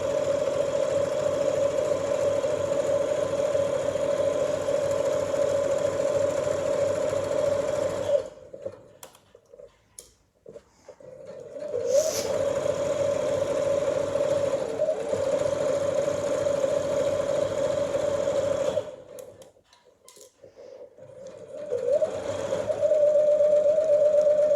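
A sewing machine runs a long steady stitch along a kimono hem, stopping twice for brief pauses while the needle is dropped and the fabric lifted and turned, then starting up again, loud and close with no talk.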